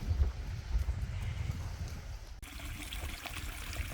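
Spring water trickles steadily into a trough in a village, with a soft continuous flow and some light wind noise on the microphone, alone and without talk.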